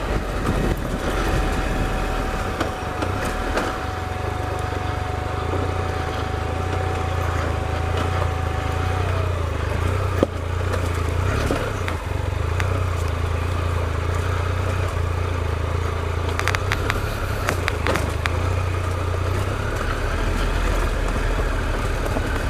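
A Triumph Explorer XCa adventure motorcycle rides dirt trails through a gully, its engine droning steadily and loudly throughout with slight throttle changes and wind noise, close and continuous with no talk.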